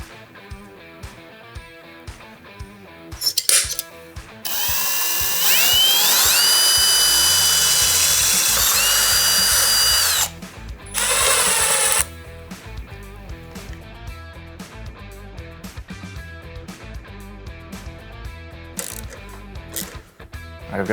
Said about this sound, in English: I've got another nutsert tool here.